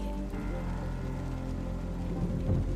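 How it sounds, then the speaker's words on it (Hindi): Light rain falls in a steady, soft hiss with a low rumble underneath, continuous and even throughout with no voices. "तभी हल्की हल्की बारिश होने लगती है।"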